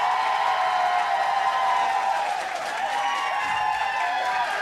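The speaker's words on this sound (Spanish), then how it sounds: "Y aplausos para Gonzalo Flores" Studio audience on a talent competition show applauds steadily, a thick continuous wash of clapping with faint crowd murmur, even in loudness from start to finish.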